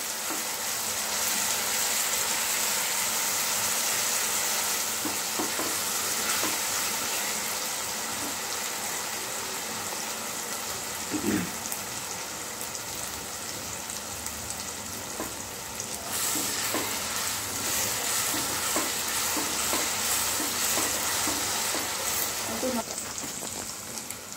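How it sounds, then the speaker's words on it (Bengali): Chopped onion sautéing in a pan until soft, a constant crackling sizzle with occasional stirring scrapes throughout, steady and close. "ভালো করে নেড়ে চেড়ে নিতে হবে এবং পেঁয়াজটা নরম হয়ে আসা পর্যন্ত ভালো করে এটাকে সটে করতে হবে।"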